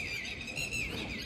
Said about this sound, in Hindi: ऐसी आवाज़ आती है बर्ड्स की।